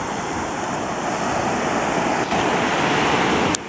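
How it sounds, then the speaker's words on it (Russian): Sea waves crash onto a stormy beach on the Spanish coast in a continuous, loud, broadband roar, with some wind noise mixed in and no talking. "Да, волны, смотрите, до сюда и доходят."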